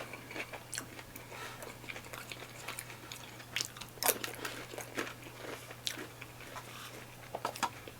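Repeated crisp crunches of someone biting into and chewing a crispy wrap at Burmese cuisine, close and distinct bites over a faint steady hum, with no talking.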